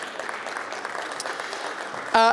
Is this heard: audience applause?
yes